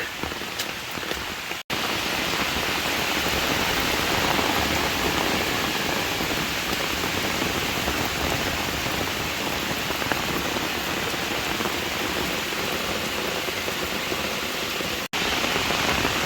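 Steady, loud rain pours down in a video game, a dense hiss that holds constant apart from two brief cuts, with no voices.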